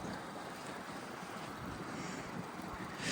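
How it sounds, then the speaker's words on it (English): Strong outdoor wind buffeting the microphone, a constant loud low rumble and roar that lasts the whole stretch, with no speech. "Hopefully you can hear me because of the wind"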